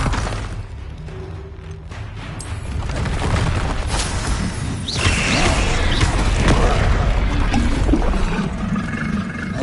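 Confringo blasting spells burst repeatedly in Hogwarts Legacy combat on PS5, a dense run of loud booming blasts and rumbling impacts with crackling debris, steady and close throughout.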